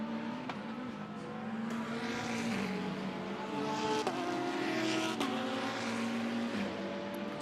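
GT race cars during qualifying at Monza in the GT World Challenge Europe, engines droning and shifting pitch as several cars pass and gear changes crack through, loud and continuous, heard without commentary.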